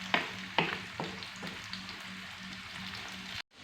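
Okra coated in gram flour fries in hot oil with a steady, dense sizzle. Several sharp clinks of a utensil stirring the pan repeat close by, and then the sound cuts off abruptly.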